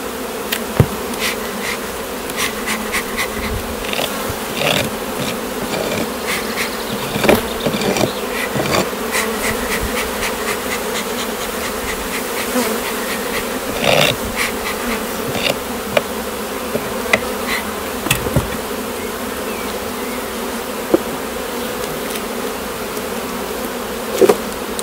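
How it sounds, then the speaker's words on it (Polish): Dense, steady buzzing of many Buckfast honeybees around a hive during an inspection, close by, with occasional knocks and bumps over the hum. "Te pszczoły przeganiam tutaj wszędzie."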